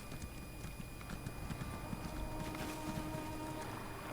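A mounted horse in the video game Elder Scrolls Online gallops with a steady rhythmic clip-clop of hooves over a soft background of game ambience and faint tones.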